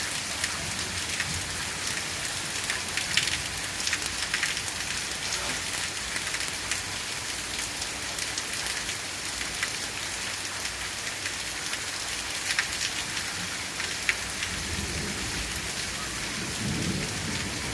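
Heavy rain pours during a thunderstorm, a dense continuous hiss of drops hitting surfaces with low rumbles of thunder beneath, steady and close with no voices.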